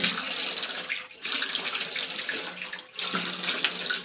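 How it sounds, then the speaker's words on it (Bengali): Cold tap water running into a sink as a face is rinsed, a steady close splashing flow in three bursts broken by two short pauses, with no talking. "এবারে ঠান্ডা জলে মুখটাকে ভালো করে ওয়াশ করব, মানে ধুয়ে নেব।"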